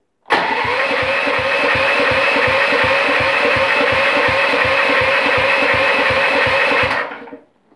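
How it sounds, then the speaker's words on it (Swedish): A Club Car golf cart engine cranks and catches, then runs with a fast, even putter of regular firing pulses for about seven seconds before cutting off abruptly. "Men jag vill ju ha motorn ska snurra."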